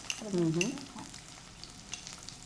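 Chopped onion goes into hot tempering oil with curry leaves for jowar noodles, giving a faint, steady sizzle. A short voice sounds briefly near the start.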